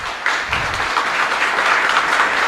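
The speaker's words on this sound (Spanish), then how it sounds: "Así es que para ellos pido un fuerte aplauso" A congregation at a Mass claps for the altar boys, steady dense applause that starts abruptly and holds at even strength throughout.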